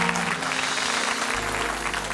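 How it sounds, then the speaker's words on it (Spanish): Studio audience applause at a Spanish-language late-night comedy monologue, a steady dense wash of clapping filling the room, with a low hum underneath. "un aplauso para el señor"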